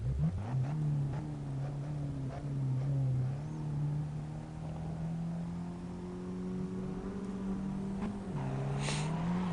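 Race car engine in the Assetto Corsa racing game, a steady harmonic drone that climbs slowly in pitch as it revs, with a brief dip near the end like a gear shift, close and fairly loud throughout.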